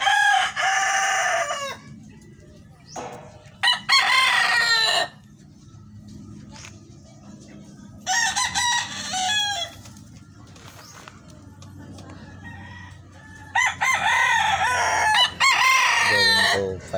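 Young Lemon Sweater and Bacolod line gamefowl roosters crow in several loud, close, drawn-out calls separated by short gaps. Softer clucking and other bird sounds fill the background.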